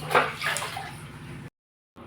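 A pot of patwadi curry boils on the stove with a wet, sloshing bubble that runs steadily and then cuts off abruptly.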